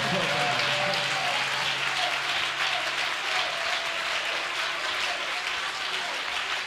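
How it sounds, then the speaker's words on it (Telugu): A church congregation claps continuously and loudly in a dense, steady burst of applause, with voices mixed in underneath. "ప్రభునామానికి మహిమ కలిగినట్లుగా చప్పట్లు కొట్టి దేవుని కనపడదాం"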